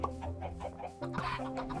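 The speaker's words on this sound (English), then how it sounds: "I have my chicken farm over here, which is kind of pathetic, but it's there and it's producing me some raw chicken" Chickens clucking on a chicken farm in Minecraft, several short clucks in an uneven rhythm over a faint steady background, quiet and close.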